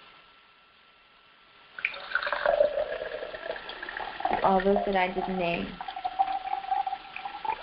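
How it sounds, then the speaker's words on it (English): Water is poured out during an ancestral healing ritual, a steady close trickle and splash starting after a quiet opening and running on under a person speaking. "I'll pour some more water."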